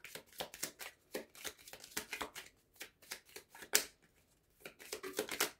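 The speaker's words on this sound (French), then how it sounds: "Je vais tirer 2 autres cartes pour l'énergie masculine." Tarot cards being shuffled and drawn by hand, a quiet, close series of crisp riffling and flicking bursts in an uneven rhythm with short pauses between them.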